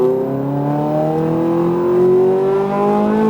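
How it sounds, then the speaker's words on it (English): A Ferrari F430 F1 track car at full throttle on a road course, its engine note climbing steadily in a close, loud, sustained rising howl with a strong harmonic buzz. "Accelerate full throttle."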